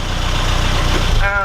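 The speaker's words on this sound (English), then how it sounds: "So we'll switch the engine off now" A classic Mini SPi engine idles with a steady, even low thrum, close and loud, then begins to wind down as it is switched off near the end; someone speaks over it.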